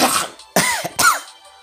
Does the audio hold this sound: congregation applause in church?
no